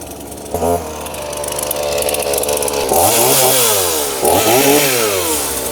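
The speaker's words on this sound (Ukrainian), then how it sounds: "Це у нас пилка приїхала з ремонту" A chainsaw just back from repair runs loud and close, idling before it revs up twice in rising and falling surges.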